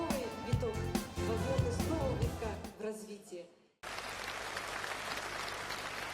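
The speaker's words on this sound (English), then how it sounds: "Please welcome Mr. Mikhail Sergeyevich Gorbachev with your warmest applause" Music and an announcer's voice fade out, then after a brief silence an audience bursts into loud, sustained applause to welcome a speaker at a company anniversary celebration in Moscow.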